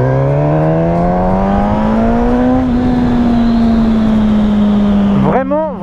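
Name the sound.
Suzuki GSX-S 1000 motorcycle engine accelerating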